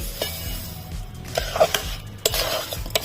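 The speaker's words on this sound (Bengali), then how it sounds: "ভালো করে মিশিয়ে নেব" A spoon stirs jaggery and sugar in a pot while making apple chutney, giving soft scraping and clinking strokes against the metal that rise and fall unevenly over a few seconds, close and fairly quiet with no talk.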